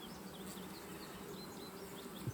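Carniolan honey bees at an open hive, a faint, continuous buzzing drone with scattered higher whines of individual bees flying past, no voices present.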